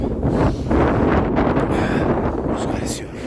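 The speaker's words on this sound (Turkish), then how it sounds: "Rüzgar esiyor." Strong wind buffets and roars across the microphone in continuous gusts, loud and rough, with no clear voices, at Erciyes Ski Center.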